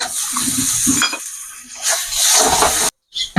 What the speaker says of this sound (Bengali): এরপরে টমেটো একটা কেটে রেখেছি, ওই টমেটো ঢেলে দেবো।